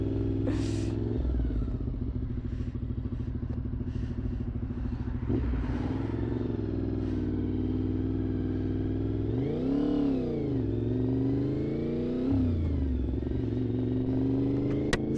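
A 38-year-old Honda VFR 750 motorcycle idles with a steady, throbbing engine note, then revs up sharply twice near the middle of the run, each rise falling back to idle, loud and close.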